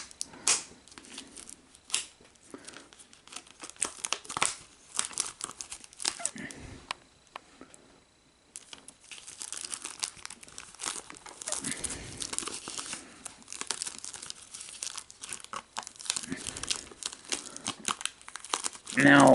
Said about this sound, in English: Shrink wrap unwrapping for the very first time.